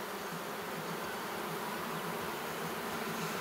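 Honey bees on a brood comb, smoked during queen rearing by the Miller method, give a dense, even buzz that fills the whole moment, close and unbroken.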